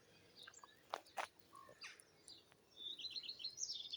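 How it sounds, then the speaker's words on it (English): Birds such as jackdaws, blackbirds and crows call faintly outdoors near a hedgerow, with a few short distant chirps early on and a denser run of high twittering toward the end. "We've got the sound of many birds, the jackdaws, the blackbirds,"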